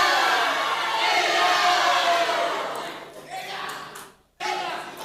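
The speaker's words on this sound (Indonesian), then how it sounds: "pendukung paslon nomor urut 3 memberikan tepuk tangan kepada paslon yang didukung" Supporters of candidate pair number 3 applaud at a live regent and deputy regent election debate in Indragiri Hulu: a dense, loud wash of clapping and crowd noise that thins after a few seconds, then cuts out briefly and returns.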